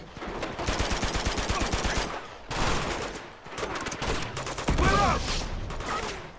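Rapid automatic gunfire from a firefight in the video game Uncharted 2: Among Thieves, loud sustained bursts of shots with brief pauses between volleys and explosive impacts.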